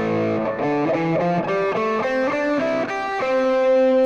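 An electric guitar played with a normal tone runs a quick melodic line of picked notes, steady and close, with a held note at the end and no talking.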